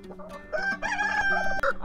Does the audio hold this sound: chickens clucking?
yes